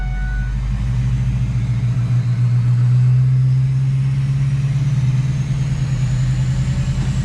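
A car engine running steadily at close range, with a low, even drone that holds for several seconds and a faint rise in pitch as the car sets off for a short drive down the road, no voices.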